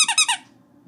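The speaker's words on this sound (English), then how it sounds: "We got another squeaky." A squeaky dog toy gives three quick, high-pitched squeaks close up, then stops, leaving a faint low background hum.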